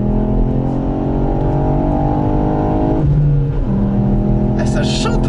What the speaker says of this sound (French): Ah, ça chante le 3 cylindres hein.